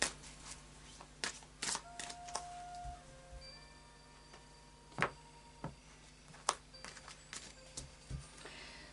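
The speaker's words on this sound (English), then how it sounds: "a final shuffle then of the Fairy Oracle by Brian Froud" Faery Oracle cards by Brian Froud are shuffled close by in quiet surroundings, giving soft, scattered taps and riffling clicks at an irregular pace.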